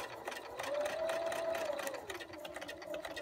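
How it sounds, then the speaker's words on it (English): A sewing machine stitches quilt pieces with a steady mechanical whir and a rising-then-falling motor hum as it speeds up and slows, close and fairly quiet. "So there we are sewing"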